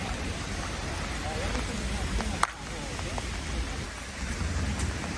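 Steady rain falls throughout, a dense even hiss close by with a single sharp crack partway through and a faint voice underneath.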